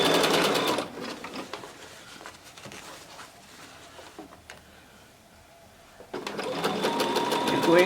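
Sewing machine stitching a seam on a men's casual dress shirt, rapid loud mechanical running in two bursts at the start and end, with a quieter pause of handling noises between, no talk.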